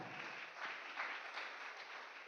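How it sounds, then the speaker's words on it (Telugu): Steady broadband clapping from an audience at a talk, a continuous wash of many hands with no voices over it. "కొట్టాలి చప్పట్లు, గట్టిగా కొట్టాలి"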